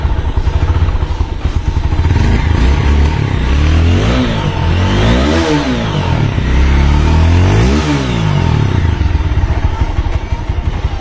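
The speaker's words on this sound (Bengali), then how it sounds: "দেখুন স্টার্ট হয়ে আছে বাইকটি" A second-hand 2024 TVS Apache 4V motorcycle engine runs loud and close, rising into two distinct revs before settling back to a steady idle.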